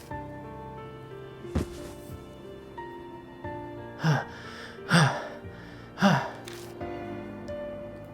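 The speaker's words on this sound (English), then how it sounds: "The only sound that can be heard is our gasps for breath as we sit in the darkness." Heavy gasps for breath from characters in the video game Death Mark, sitting in darkness: one gasp, then three loud, evenly spaced gasps over a low sustained tonal backdrop.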